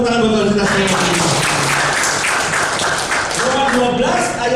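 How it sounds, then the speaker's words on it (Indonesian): A church congregation applauds during a worship service, a full, sustained wash of clapping with voices and cheering mixed in, loud and close throughout. "Tepuk tangan buat Tuhan kita semua."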